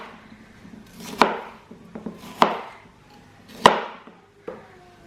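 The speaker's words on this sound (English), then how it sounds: "So just roughly chop those." Vegetables being roughly chopped with a knife on a board for loaded fries: three sharp, loud chops about a second apart and a softer fourth, with light handling noise between, close and without talk.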